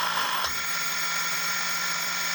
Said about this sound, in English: When you're ready to arm, go ahead and flip throttle hold off, and you can power up the motors.